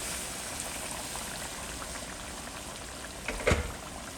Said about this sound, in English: To add some water, and I'm using hot water, so I don't cut the cooking temperature